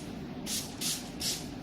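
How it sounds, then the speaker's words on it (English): Three quick sprays of water from a pump spray bottle onto hair, evenly spaced hissing bursts close up, over a low background hum. "And I just spray it a couple of times."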